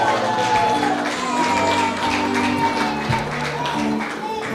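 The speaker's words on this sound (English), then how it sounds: "the reason for the elongated clapping is that this is the husband of the author" Prolonged applause from a book launch audience as the author's husband is welcomed, a steady wash of clapping and crowd noise with scattered cheers and murmurs, while a low melodic tone sounds underneath throughout.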